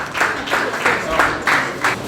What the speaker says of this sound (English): Please round of applause for Team Health Innovate.